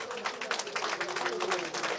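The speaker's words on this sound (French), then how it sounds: "Voilà, applaudissez, s'il vous plaît." Audience clapping at an official religious conference ceremony, a short burst of brisk, fairly close hand claps at a steady level.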